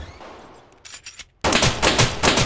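Rapid gunfire bursts in a first-person shooter game, dense and loud, erupting suddenly after a quieter stretch of scattered shots.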